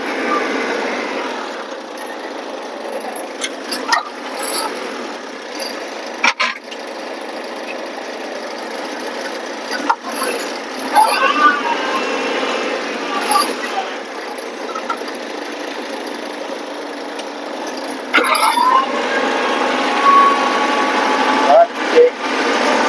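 A Kubota tractor pulling a rotovator weeds between papaya plants, its engine droning steadily and close for the whole stretch, with occasional clattering bumps and brief surges from the working machinery.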